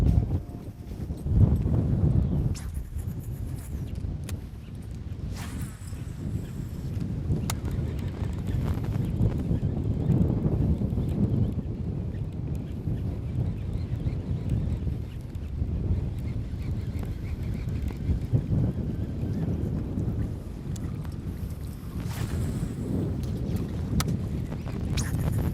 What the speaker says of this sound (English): Wind is tough.